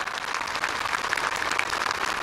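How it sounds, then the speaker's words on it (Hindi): Large crowd clapping at a political public meeting in Meghalaya, a continuous, even roar of applause heard alone at moderate loudness. "अनुरोध करा गया है जोर का ताली बजाए"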